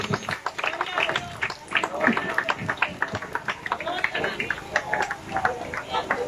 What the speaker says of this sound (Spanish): Aplauda al Señor, siéntese.